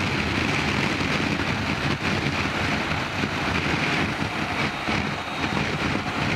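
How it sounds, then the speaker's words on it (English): Wind roaring steadily over a BMW R1250GS rider's helmet visor at speed with the windscreen wound down to its lowest position, a loud continuous broadband rush with no break. "if I wind the screen down to its lowest position, you may even be able to hear the extra wind noise"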